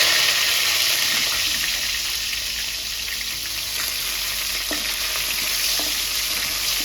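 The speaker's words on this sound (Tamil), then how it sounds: "இப்ப நான் கருவேப்பிலை சேர்த்துக்கிறேன்." Curry leaves sizzle loudly in hot oil for a Tamil crab masala gravy, a constant close bright hiss with small crackles and pops scattered through it.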